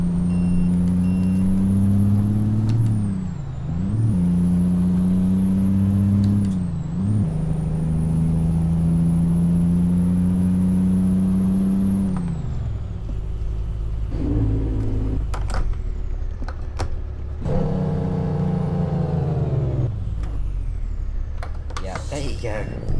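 Kenworth K108 truck in American Truck Simulator, deep low-rev engine rumble with strong harmonic drone, revs rising and dipping through gear changes, heard alone and up close for about twenty seconds.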